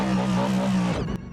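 Cadillac LMDH GTP prototype race car in a racing video game screams past at high revs, a loud sustained engine tone that drops sharply in pitch near the end, then cuts away.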